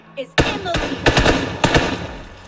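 Gunfire in a TDM map of a mobile shooter game, a few loud bursts of rapid automatic shots with sharp cracks and short gaps between volleys, close and punchy.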